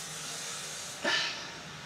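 Hot cooking oil gives a sudden, loud hiss lasting about a quarter second, rising sharply out of a quiet background and then fading back down.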